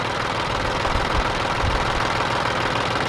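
A Ford four-wheel-drive tractor's diesel engine idles steadily after a fuel filter change, a close, even low rumble with a soft knocking pulse and no other sounds.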